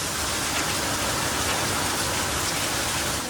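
Heavy rain pours outside at home in the evening, wind-driven, a dense unbroken hiss of drops on surfaces, steady and fairly loud with no voices.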